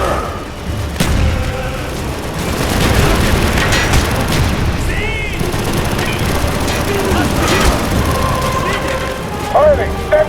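Mortar rounds fire and explode amid heavy battle noise in Call of Duty Black Ops during the Project Nova campaign mission, with loud booms and rattling gunfire layered over shouting voices.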